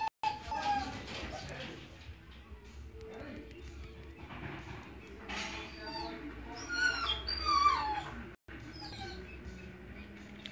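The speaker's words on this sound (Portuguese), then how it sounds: "Cachorro filhote chorando demais." A puppy whimpers and cries in repeated high, thin whines over a steady indoor background hum, with muffled sounds of activity around it and a short dropout near the end.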